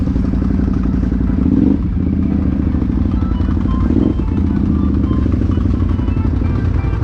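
A quad bike engine runs steadily nearby after a storm, a loud continuous rumbling idle with faint clattering, and a voice or two mixed in underneath.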